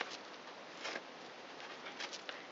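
Pigeons coo and flutter softly while being fed outdoors, a steady bed of rustle and patter with a few brief louder bursts, no talking.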